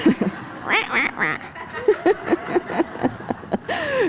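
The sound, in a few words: ducks quacking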